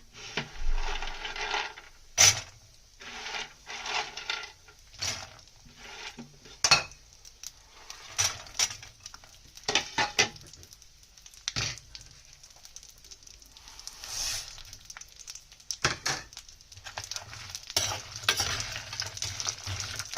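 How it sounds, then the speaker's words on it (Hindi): Dry fruits roast in hot ghee in a pan while a spoon stirs and scrapes, with irregular clattering strokes over a faint sizzle, close and continuous. "अब हम स्लोली ड्राई फ्रूट को इसमें भूनेंगे"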